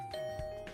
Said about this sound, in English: Someone ding-donged your fucking doorbell.